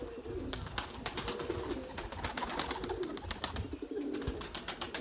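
Tumbler pigeons coo in low repeated calls, with sharp wing-flapping claps scattered throughout as the birds take off and fly nearby, all fairly soft but continuous.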